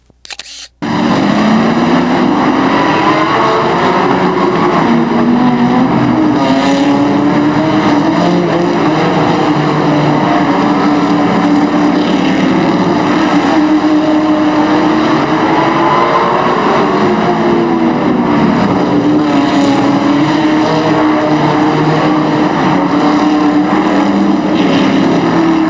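Stock cars racing at Raceway Park in Blue Island after a restart, led by car number 0, make a loud, continuous engine roar with rising and falling pitch as the pack circles, steady and close throughout.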